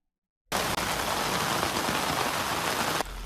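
Heavy rain pours down during flooding in Japan, a loud, steady broadband hiss of downpour that starts abruptly after a brief silence and continues unbroken, with no voices.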